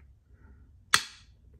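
Lishi Clipper key cutting machine punching a single cut into a key blank for a Schlage 3D printed adapter setup: one sharp, loud snapping crack with a brief metallic ring, set against a quiet low room hum.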